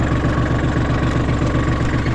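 Small tractor engine idling nearby, a loud, steady rhythmic chugging with a pulsing low-end throb that stays constant throughout.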